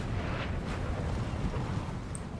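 Low, rumbling artillery shelling from a Napoleon Total War battle as a carabinier unit is bombarded, a steady muffled roar of distant blasts with no distinct individual shots.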